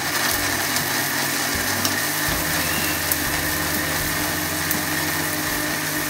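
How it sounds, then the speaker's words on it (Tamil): A kitchen mixer grinder whirs steadily as it grinds dry coconut pieces with no water added, a constant close motor drone with faint rattling. "அடுத்தது பார்த்தீங்கன்னா தண்ணியே ஆட் பண்ணாமல் ஃபஸ்ட்டு கொஞ்சம் அரைச்சிக்கிறேன்."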